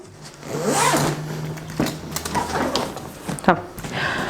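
A suitcase being zipped shut, with a few short rasping zip pulls and clunks close by, mixed with handling noise and brief bits of talk.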